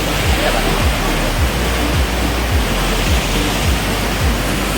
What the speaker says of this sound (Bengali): খুব বেশি স্রোত আর কি আর শব্দ অনেক বেশি শব্দের কারণে কথা হয়তো বা রেকর্ড হচ্ছে কিন্তু অতটাও বেশি স্পষ্টভাবে রেকর্ড হচ্ছে না